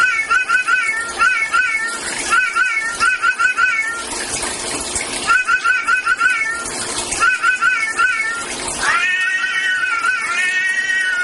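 A cat meows over and over, loud and close, in long wavering caterwaul-like cries that come in bursts, with a steady rushing noise like running water underneath.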